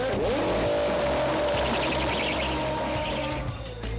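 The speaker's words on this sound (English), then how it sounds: "Gentlemen, start your engines!" Loud race car engines roaring and revving at close range, a steady high-pitched whine rising and falling over a continuous low rumble.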